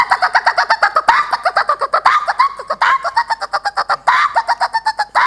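A voice imitates the call of a koel, giving a quick, steady run of repeated whistled notes, close and loud, with short pauses between bursts across the whole stretch.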